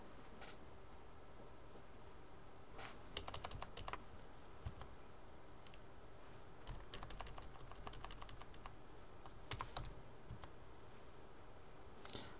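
Soft, scattered keystrokes on a computer keyboard entering R code in RStudio, arriving in short bursts with pauses between, fairly quiet against a steady low room hum.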